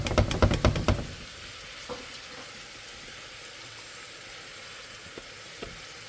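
Garlic, celery and onion go into a hot soup pot for lentil soup. A few quick knocks and stirring clatters come first, then a soft, steady sizzle with faint occasional taps.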